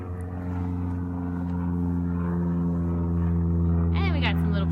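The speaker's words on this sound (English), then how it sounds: "And we got some little planes going overhead," Small propeller planes pass overhead on a sunny, breezy day near a backyard fire pit, a steady droning engine hum that holds throughout, with a brief whistling chirp near the end.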